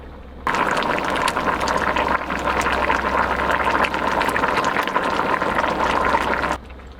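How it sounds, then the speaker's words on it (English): Pasta boils in water inside a Jetboil stove during winter camping in a van, giving a steady close bubbling rush that starts abruptly and runs evenly before cutting off near the end. "The pasta is cooking. It's all inside there now."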